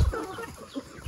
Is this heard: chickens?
yes